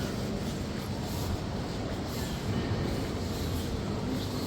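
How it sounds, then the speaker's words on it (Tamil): A train arriving at a station in Norway rumbles steadily nearby with a broad, continuous low roar and faint metallic rattling, no voices over it. "இருபத்தேழுக்கு ரயில் ட்ரெயின் வந்திருக்குது"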